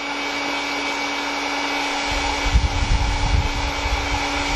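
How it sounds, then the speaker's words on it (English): A heat gun blows steadily while warming a rifle bolt, a constant close whirring hiss with a fan hum that turns rougher and more uneven partway through. No one speaks. "With this heat gun it won't take long."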